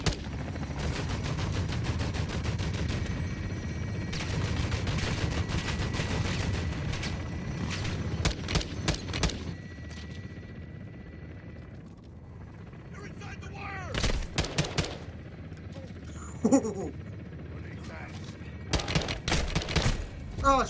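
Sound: automatic gunfire in the video game Call of Duty Modern Warfare II

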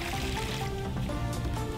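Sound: plaster being poured into a mold

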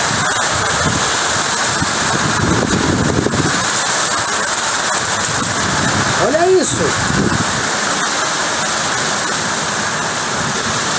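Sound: heavy rain and hailstorm

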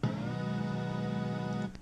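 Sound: synth from a downloaded sample pack

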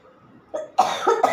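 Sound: cough

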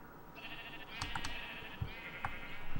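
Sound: sheep eating grass in Minecraft, video game

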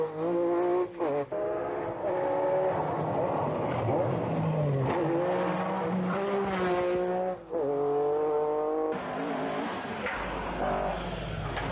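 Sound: Opel Manta rally car driving fast

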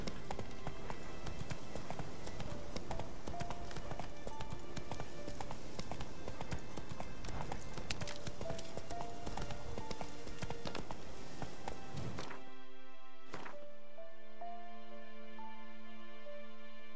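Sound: horse Roach galloping, hooves clip-clop, from video game The Witcher 3

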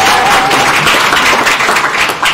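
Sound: audience clapping at a university event

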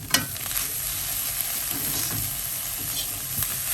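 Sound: stir-frying pineapple into salted fish fried rice

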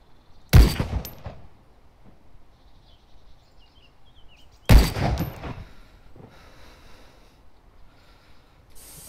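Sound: gunfire in a video game

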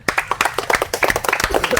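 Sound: clapping for a child in a game

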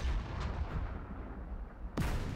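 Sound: gunfire in a tank video game

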